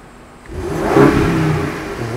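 An Alpina B7 Long's engine revs up through its exhaust, the roar rising then holding steady at a throaty, close growl.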